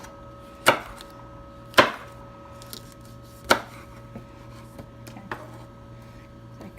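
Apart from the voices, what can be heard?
knife cutting peppers into fine rings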